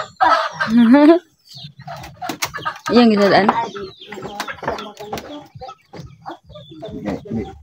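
Chickens cluck and squawk close by, mixed with bursts of a person talking and calling out.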